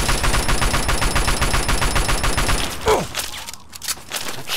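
Rapid automatic gunfire from raiders and an assault rifle in the video game Fallout 3, a dense, loud stream of shots that stops abruptly near the end, leaving a few scattered clanks and impacts.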